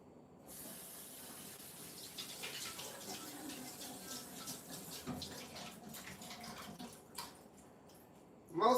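Tap water running and splashing over canned northern beans in a kitchen sink, a soft steady rush with a clatter at the end.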